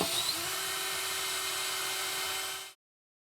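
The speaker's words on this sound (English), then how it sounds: "We're going to use a 5/8 inch drill bit to drill the bore hole down from the top to the bottom." A power drill with a 5/8 inch bit bores a hole down through a countertop for an RV water purification system install, running as a continuous high whine for under three seconds before stopping abruptly.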